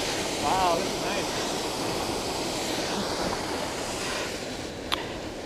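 Rainbow Falls in Rainbow Falls Provincial Park, with water spilling over slippery rocks, makes a steady, close, broadband rushing roar that never lets up. Brief voices come through faintly.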